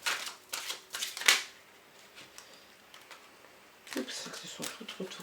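Business Tarot cards are shuffled by hand in crisp, quiet papery bursts, with a pause before a second flurry of riffling near the end.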